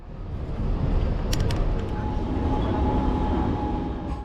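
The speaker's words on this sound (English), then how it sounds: "so we'll take the tram from here to Wimbledon" A tram runs on London's tram network between East Croydon and Wimbledon via Mitcham Junction, giving a steady, fairly loud rolling rumble with a faint whine that holds throughout.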